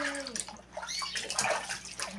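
Water splashing and running over a small dog during a bath at home, a brief, close rinse with soft sloshing and no talking.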